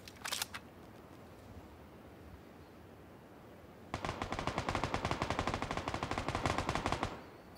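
An MG49 machine gun fires in the battle royale game PUBG: after a short early burst, a long rapid string of sharp automatic shots rattles steadily for about three seconds, fairly close and clean with no talk over it.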